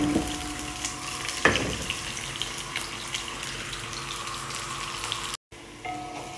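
Onions tipped into a hot pan with a brief sharp hit, followed by an even, moderate sizzle of frying that carries on to the end.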